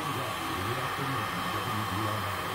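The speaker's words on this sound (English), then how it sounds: "Going to use the heat gun again." Heat gun blowing steadily on a colourful resin pour, a constant close airy whoosh with a low motor hum, uninterrupted and without talk.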